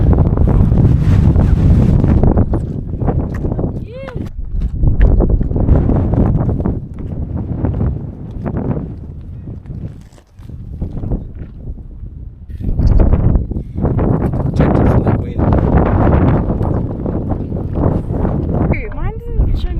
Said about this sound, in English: So windy, the wind's just picked up